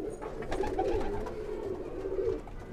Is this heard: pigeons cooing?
yes